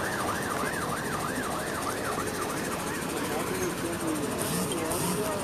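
Ambulance and fire engine sirens wail continuously along a busy avenue near a serious car and motorcycle collision, a loud rising-falling siren up front with a second siren layered over dense traffic noise, voices talking underneath.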